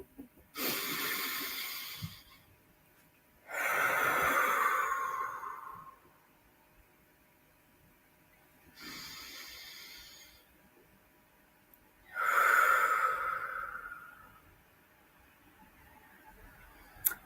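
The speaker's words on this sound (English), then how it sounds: "Deep breath." Slow, deep breaths drawn in and let out, four long airy swells separated by quiet pauses, close and alone with no talking.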